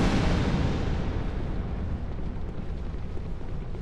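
Fire hurled at the player in Dark Souls 2: Scholar of the First Sin, a loud, dense roaring burst that starts strongest and then settles into a steady rushing crackle, with no voices.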